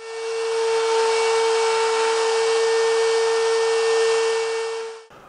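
A router cutting an inlay groove into a veneer table top, a loud steady high whine with constant cutting noise for about five seconds, then stopping abruptly.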